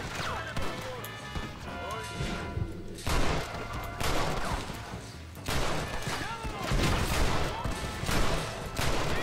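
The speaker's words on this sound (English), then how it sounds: "Oh my god, he had a shotgun." Shotgun blasts in Red Dead Redemption, a run of loud, dense crashing reports recurring every couple of seconds amid a busy, noisy game mix, with speech woven through.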